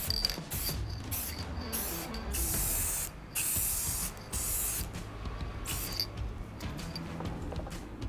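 An aerosol can sprays clear coat onto the repaired paint of a Toyota 4Runner in several long, close hissing bursts separated by brief pauses, with no talking.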